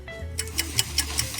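Clock ticking steadily, roughly five sharp ticks per second, fairly close and alone, with a low hum underneath.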